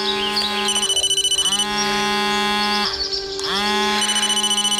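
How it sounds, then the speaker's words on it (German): In the VR horror game Blair Witch, a telephone rings repeatedly in loud, rapid electronic trills, each burst of warbling pulses separated by short gaps over a continuous low hum. "Telefon?"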